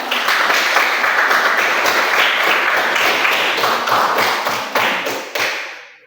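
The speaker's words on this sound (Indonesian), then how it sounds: "Kita tepuk tangan dulu, ya." A classroom of schoolchildren claps hands together in a loud, dense burst of overlapping claps that holds steady for several seconds, then thins to a few last claps and stops.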